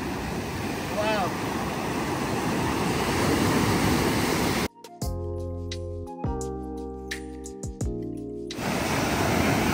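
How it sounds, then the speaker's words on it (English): Strong ocean surf rolls and crashes at a beach in Portugal, a loud continuous roar of breaking waves that cuts out midway, replaced by tonal music, before the wave noise returns. "there's some strong waves as well"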